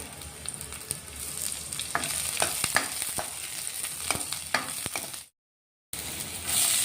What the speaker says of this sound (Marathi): लसूण टाकून घेतोय आपण बारीक कट केलेला लसूण आहे चांगला परतून घेणार आहे